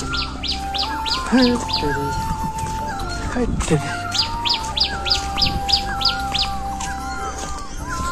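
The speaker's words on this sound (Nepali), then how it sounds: "चराचुरुङ्गीको आवाज छुट्टै छ नि होइन चिरिबिरी" Birds chirp in repeated bursts of bright, high tweets through the whole stretch, with one other call breaking in midway, all set against outdoor background sound and some voices.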